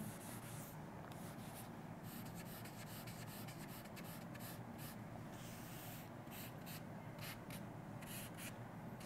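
A board eraser rubs chalk writing off a classroom board in a chemistry lesson, producing quiet, steady scrubbing strokes in quick repeated bursts, with no talking during the rubbing.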